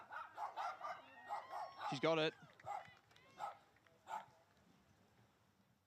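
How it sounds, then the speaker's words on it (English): A dog barks repeatedly at an outdoor women's Australian rules football match between East Burwood and Surrey Park, giving several fairly close barks and yips under a commentator's steady talk. "There's a dog that's not too happy about that goal"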